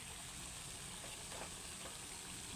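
Meat added to a cooked-down spiced masala sizzles in a steady, dense, hissing fry, continuous and evenly loud throughout with no talking.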